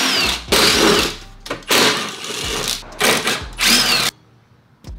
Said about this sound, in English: So I'm gonna go ahead and just unscrew these